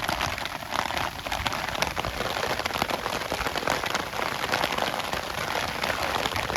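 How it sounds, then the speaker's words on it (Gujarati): Steady rain patters densely on a surface, a constant hiss of drops that stays even and fairly close throughout, with no voices. "પાછો આજે વરસાદ આવી ગયો"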